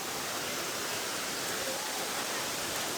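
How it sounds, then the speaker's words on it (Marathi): A waterfall pours from high above near the Kondane caves in Karjat, a dense, even rush of falling water that fills the whole moment, steady and moderately distant with no breaks. "एकदम वरून पाणी पडतंय"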